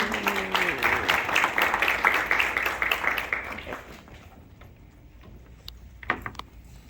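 Audience applause at a school assembly honoring a new Safety Patrol Officer, dense clapping from a crowd for about three and a half seconds, then fading into scattered claps, quiet room noise and a few late isolated claps.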